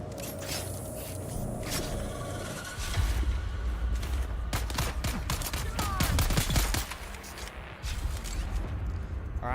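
Gunfire in the video game Dune: Awakening, dense rapid bursts and crackling shots layered with scraping mechanical noise, sustained and loud through most of the stretch, with faint voices.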